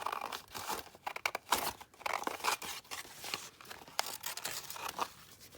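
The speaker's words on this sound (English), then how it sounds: "Okay, so I'm just going to cut it down here like that." Paper is cut with scissors while making a double pocket craft, with close crisp snipping, crinkling and rustling in a steady, uneven series of strokes.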